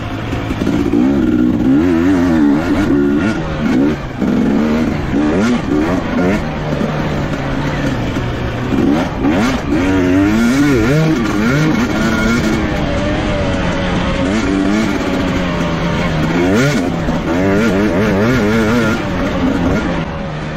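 A 2019 KTM 250xc dirt bike is ridden hard over braking and accelerating bumps on a motocross track, its engine loud and close, revving up and down continuously with rapidly shifting pitch and no talking.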